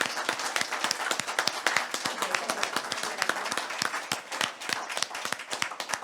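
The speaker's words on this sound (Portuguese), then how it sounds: "mestre Leong Yogfai, para quem eu peço uma salva de palmas" An audience applauds at a book launch. The clapping is brisk and steady, made of many overlapping hand claps at moderate distance, and it keeps up for several seconds.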